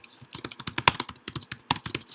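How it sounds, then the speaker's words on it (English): Rapid typing on a computer keyboard while entering song lyrics into presentation software, a steady run of crisp, close keystrokes with occasional louder key hits. "you can look at the lyrics and type them in by just simply double clicking and typing"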